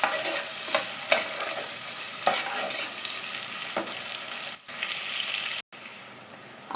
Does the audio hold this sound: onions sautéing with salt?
yes